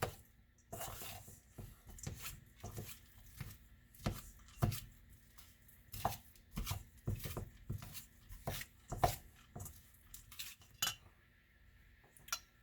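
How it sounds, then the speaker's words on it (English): A spoon scrapes and clinks against a bowl while cream cheese mixture is stirred for bacon-wrapped jalapeños, in a steady run of rhythmic strokes at close range with no talk. "Break up that cream cheese. Get it all stirred in together."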